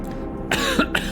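A couple of harsh coughs right up close, loud and abrupt, following a quiet moment.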